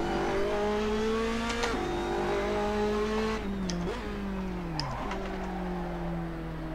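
An Assetto Corsa race car power slides through the corkscrew, its engine a loud, steady drone whose pitch sags and dips several times as the car slides, with no talk.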